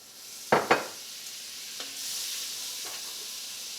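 A stick of butter drops into a hot pan and sizzles, with two sharp bursts of hiss at first that settle into a steady, close frying crackle, no voices.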